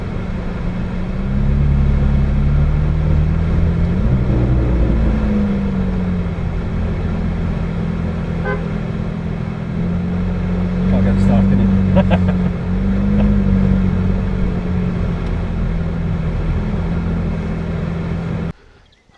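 A McLaren supercar drives around the Silverstone circuit, with a steady loud engine drone and rising and falling revs throughout, and voices occasionally heard over the engine.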